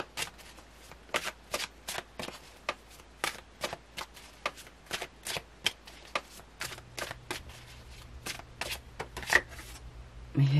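Tarot cards are shuffled close up in a quiet room, making a long run of crisp, evenly spaced riffling flicks that carries on for several seconds.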